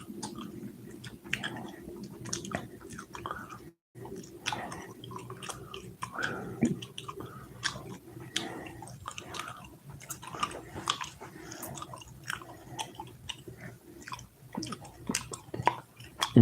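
Gum is chewed close to the mic in a steady run of wet smacks and clicks that repeat irregularly for over fifteen seconds, with a brief pause partway through.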